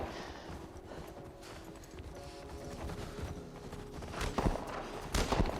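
Horse hooves clip-clop in a steady walking rhythm over a noisy background in The Last of Us Part 1, getting a bit louder toward the end with a few heavier thuds.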